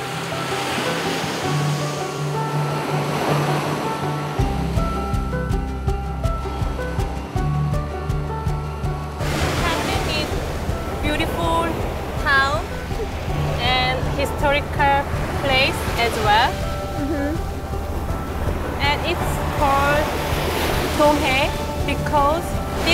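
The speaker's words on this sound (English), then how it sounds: "The cooling sound of waves and the soft sandy beach greet the artists." Ocean waves wash onto sandy Jongdongjin Beach near Gangneung, a steady roar of surf with breaking swells that grows fuller midway, while a narrator talks over it.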